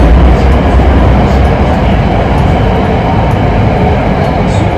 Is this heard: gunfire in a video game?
no